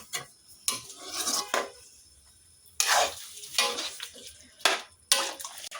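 A spoon scrapes and clinks against a metal pot while food, likely onions, is stirred in a home kitchen, in irregular close bursts with quiet gaps between them.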